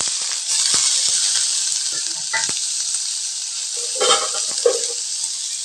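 Curry leaves and green chillies hiss and sizzle loudly in hot oil with popped mustard seeds, a steady frying roar with a few stirring scrapes and crackles near the end, close up and without talk.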